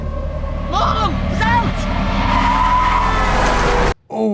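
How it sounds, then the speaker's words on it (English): Tires skid in a car accident, a loud sustained screech with rising whistling tones over a heavy rumble lasting several seconds, then cutting off abruptly into near silence with a brief low thud. "Oh no, this was a car accident."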